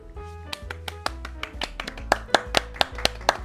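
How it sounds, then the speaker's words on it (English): A few people clapping in sharp, distinct claps that grow louder and quicker, over a low droning musical background at a Phantom of the Opera midnight movie premiere. "It's a nice applause."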